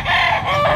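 A rooster crows once at a pet market in Bocaue, close and loud, a short strained call with no talking over it.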